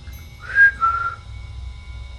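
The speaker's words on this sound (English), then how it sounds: "If I whistle, can you whistle back?" A person whistles two rising notes inside a castle at night, the tones clear and fairly close with a short pause between them, then only quiet room hum.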